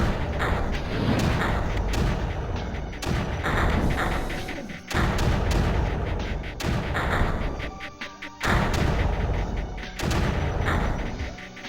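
Mortar fire in the Creeper World strategy game, heavy thudding launches and booms repeating at roughly one- to two-second intervals, each followed by a mechanical rattle.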